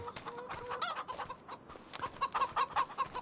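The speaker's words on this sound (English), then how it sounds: "Right, say goodbye, chickens." Chickens cluck steadily in Farming Simulator 25 on PS5, a busy cluster of overlapping short clucks from the in-game flock at low to moderate level, with no talk over them.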